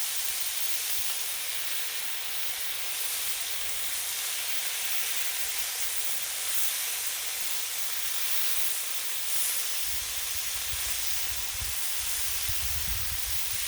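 Pork bacon sizzles on a griddle with heat zones, a steady bright crackling hiss that holds throughout at moderate loudness, with a low rumble rising near the end.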